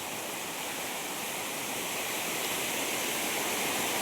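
Water pouring steadily at Munjuluru waterfall in a forest, a continuous, even broadband rush that stays close and loud with no voices.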